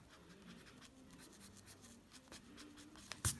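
Graphite pencil drawing tapered strokes on paper to build a realistic hairline, a steady faint scratchy rasp of repeated short strokes, quiet and close, ending in a sharper tap near the end.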